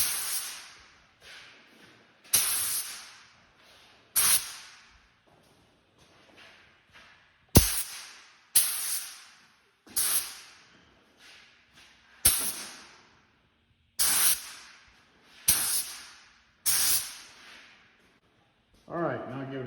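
A paint spray gun applies a light coat during a cabover truck restoration in short repeated hissing bursts, each one quick and sharp, with quiet gaps between them.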